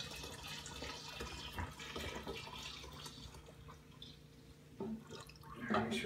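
Wort from a Brewdemon brew kit is poured into a fermenter, trickling and dripping faintly with liquid splashes rising toward the end, under quiet talk.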